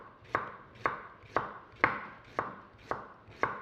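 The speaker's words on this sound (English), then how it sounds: "we're going to really finely chop" A 20 centimetre cook's knife finely chopping on a board, steady evenly spaced knocks about every half second, seven close, crisp strokes with no talking.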